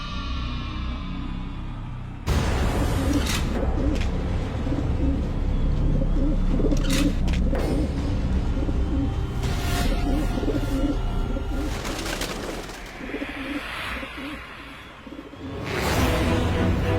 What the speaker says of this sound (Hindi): गुरुदेव, आज एक नहीं 2 पक्षी उड़ाइए।